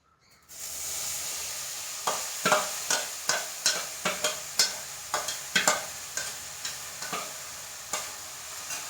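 Chopped coconut sprout is stirred in a hot pan for pongu pradhaman, with a steady row of about a dozen crisp spatula scrapes over a sizzling hiss.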